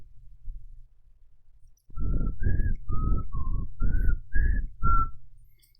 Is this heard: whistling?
yes